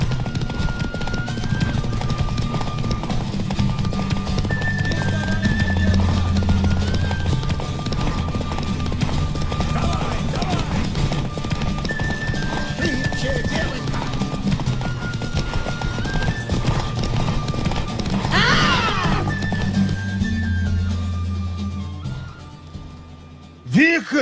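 Horses gallop in a race in the video game The Witcher 3, with steady rapid hoofbeats and occasional whinnies throughout over a music score, and voices talking as well.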